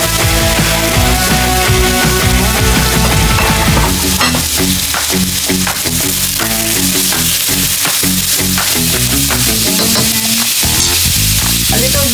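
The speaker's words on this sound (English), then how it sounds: "now we are going to cook the shrimp" Shrimp frying in a pan give a loud, steady sizzle that runs without a break, with scraping and clinks of stirring growing busier in the second half.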